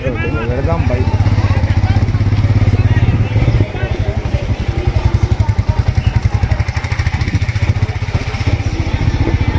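A motorcycle engine runs steadily and close by, with a loud low throb that holds through the whole stretch and a brief dip near the middle, while people talk over it.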